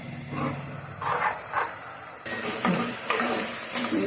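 A tadka tempering sizzles in hot oil in a pan and is stirred in short scraping bursts, close and steady, while dried prawn and egg curry is made.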